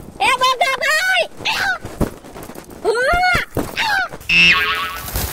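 A man with a chronic hiccup condition lets out a series of loud, sharp, squeaky hiccups in quick bursts with short pauses between, close and alone, ending in a higher strained squeal.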